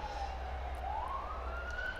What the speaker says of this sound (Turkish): bu sırada ambulans geçiyor